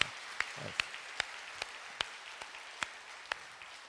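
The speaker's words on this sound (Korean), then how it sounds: "우리 기존의 오케스트라도 우리 박수 한번 해드리시길 바랍니다" Church congregation clapping for its orchestra during a Sunday service: about ten sharp, evenly spaced claps in a steady beat, crisp and fairly close against a quiet background.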